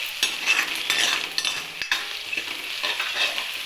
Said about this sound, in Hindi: प्याज लहसुन मिर्चा को अच्छे से हम भूनेंगे और चलाते जाएंगे